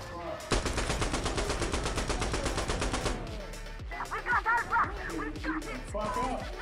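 Loud, rapid automatic gunfire in Insurgency Sandstorm: a steady burst of about two and a half seconds, then scattered single shots and short bursts. Players' voices talk over the later shooting.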